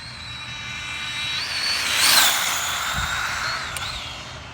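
Traxxas Slash 4x4 RC car with new upgrades, its electric motor whining as the throttle eases on, a rising and falling tone that swells near the middle and fades, with no talk.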